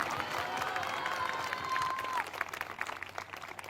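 A church congregation at a prayer meeting claps and cheers, moderately distant and diffuse, with a sustained tone and scattered voices over the applause.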